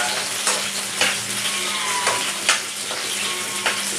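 Onions sizzle loudly in a pan for chilli chicken as they turn golden, with a dense, continuous fry and periodic scraping strokes of a spatula about every half second, no talking.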